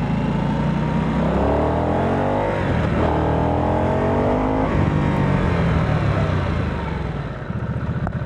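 A modern Harley-Davidson motorcycle engine runs loud and close, revving up and down in several rising and falling sweeps over a constant rumbling drone.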